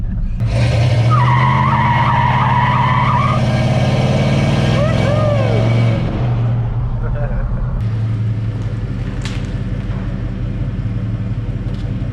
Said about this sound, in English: I had to check. Brake check.